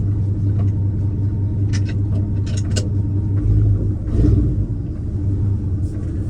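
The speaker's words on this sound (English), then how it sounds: "Listen to this truck." A truck's engine runs steadily nearby, a loud continuous low rumble with a slight swell in the middle, no voices.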